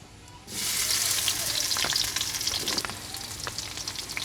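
Onions hit hot mustard oil in a pan with a sudden loud sizzle and crackle that holds steady and then settles into a busy, spitting fry, close up and with no voices.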